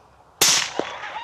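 A single gunshot at a coyote during a night hunt, one sudden loud crack that rings off briefly, close to the microphone.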